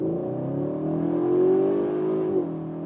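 A Cupra Leon VZ engine revs up steadily accelerating from 60 to 100 in Cupra mode, its pitch rising smoothly before a brief gear-change dip near the end, loud and close.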